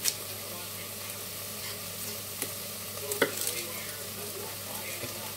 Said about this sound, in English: I'll do my onion now,